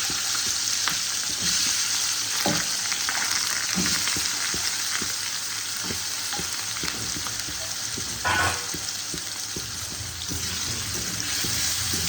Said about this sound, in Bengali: হলুদ দিলাম, এবার আমি এর মধ্যে আলুটা ছেড়ে দেবো